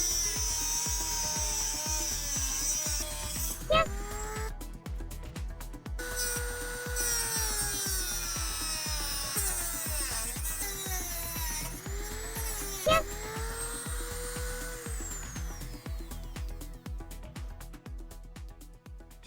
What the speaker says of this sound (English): We're gonna cut these studs off.